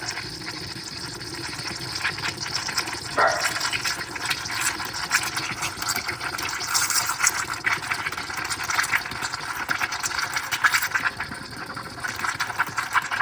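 A De'Longhi Stilosa EC260BK espresso machine's steam wand steams milk, a steady hissing, bubbling noise throughout, with a mechanical hum underneath and a brief sharper gurgle early on.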